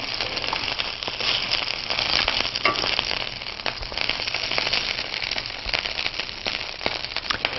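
Chicken pieces sizzle and fry steadily in olive oil in a skillet, a dense, continuous crackle with small pops throughout, close and fairly loud, with no talking.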